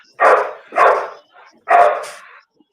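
Dogs barking loudly outdoors near feeding time, three strong close barks spaced about half a second to a second apart, with a faint yip between them.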